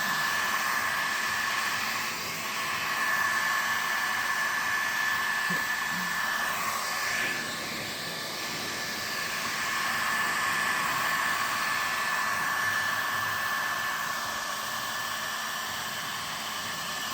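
Heat gun blowing hot air over epoxy resin on a tabletop, a steady loud broadband whoosh that holds evenly throughout with slight dips in level, close and alone.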